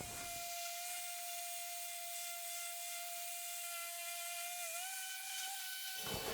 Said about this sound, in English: I'm going to sand these with 60 grit